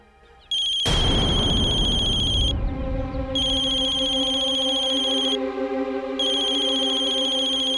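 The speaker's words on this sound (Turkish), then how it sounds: "Telefonun sabahtan beri sürekli çalıyor" A phone rings repeatedly with a bright electronic tone in regular bursts separated by short pauses, loud and close, after a sharp thump at the start.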